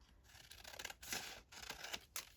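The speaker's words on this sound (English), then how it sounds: "And I'm going to trim this." Scissors trimming a paper envelope, several quick close snipping and rustling cuts in short bursts, quiet and alone.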